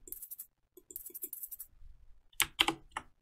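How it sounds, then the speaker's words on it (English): Crisp, dry shaker percussion in a beat, rapid clustered rattling strokes in short bursts with brief gaps, ending in a few louder, sharper shakes. "I bring in this shaker."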